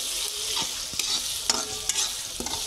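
Dal fry masala being stirred in a frying pan, a steady sizzle with several sharp scraping clicks of the spoon against the pan at irregular intervals, close and alone.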